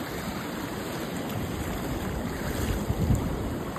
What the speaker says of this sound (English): Really heavy wave.